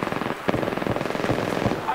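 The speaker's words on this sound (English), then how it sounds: "I'm taking fire." Gunfire in Apex Legends, a rapid automatic burst of closely spaced, loud shots that keeps up steadily with slight breaks, with a voice talking over it.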